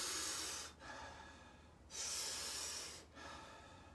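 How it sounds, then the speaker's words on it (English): Powerful rhythmic mouth breathing for yoga breathwork: three forceful, hissing inhale-exhale cycles with brief pauses between, close and breathy, with no talking. "We're going to be taking about 40 powerful breaths into the body."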